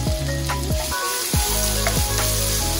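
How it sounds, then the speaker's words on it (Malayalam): Crushed garlic dropped into hot oil for spicy laal maas, sizzling in a pan: a dense close crackle with a low steady hum underneath and a few stirring scrapes, no voices. "ഇതൊന്ന് ജസ്റ്റ് ചൂടായി വരുമ്പോ വെളുത്തുള്ളി ചതച്ചു വെച്ചിരിക്കുന്നത്"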